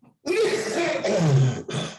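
One harsh, close cough or throat-clearing burst, heard alone and lasting under two seconds.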